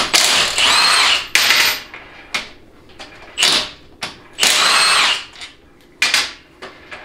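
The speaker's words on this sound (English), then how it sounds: "I would recommend using a half inch drive impact on these as well" A half-inch drive impact wrench works the bolts on a 6L90 transmission during teardown, loud close bursts of rattling hammering, about six short runs separated by pauses.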